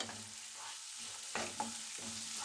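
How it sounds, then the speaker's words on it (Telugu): Cabbage and other vegetables frying over high heat in a pan, with a continuous close sizzle broken by a few spoon scrapes and tosses, moderately quiet, no voices. "నేనైతే క్యాబేజీ వేస్తున్నాను ఇవన్నీ వేసుకొని బాగా అయితే కొద్దిగా ఫ్రై చేసుకోవాలి హైలోనే ఫ్రై చేసుకోవాలి"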